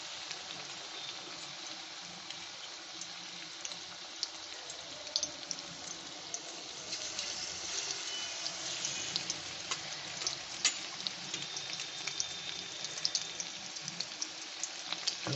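Battered chicken pieces fry in hot oil at medium heat, producing a continuous bright sizzling hiss dotted with sharp crackles and pops that build slightly over time.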